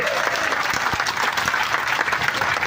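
A crowd at an outdoor protest rally against smart electricity meters claps loudly, dense and continuous applause filling the whole moment.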